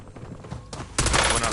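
Gunfire following a fire command during a military movement practice, a loud sharp burst that lands abruptly near the end after a stretch of muffled rumbling and noise.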